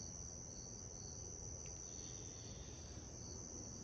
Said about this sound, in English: But the crickets are out.